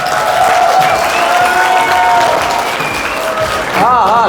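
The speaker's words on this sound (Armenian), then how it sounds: "Առաջինը ծափեր են տալիս հարսիկի" Wedding guests on the bride's side clap together at a celebration in Berd, a dense, sustained round of applause lasting the whole stretch, with a tonal melody and crowd voices mixed in.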